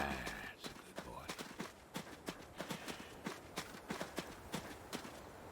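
Horse hooves clip-clop in a steady trotting rhythm in the video game Adios, crisp distinct strikes repeating close by, with a faint voice briefly audible near the start.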